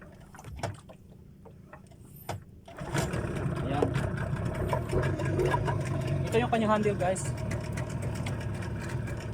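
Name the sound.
Yamaha 15 engine starting and idling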